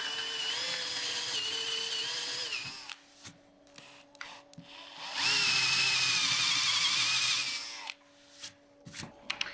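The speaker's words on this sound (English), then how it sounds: "What we now need to do, we need to drill these small holes." A high-pitched power drill boring small holes in wood whines in two bursts, the second louder and longer, with brief clicks and handling noises between them.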